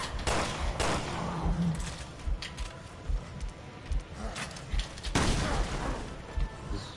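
Bursts of gunfire in Resident Evil Revelations 2, several loud close shots and short volleys with sharp onsets at irregular intervals over a busy game background, no speech audible.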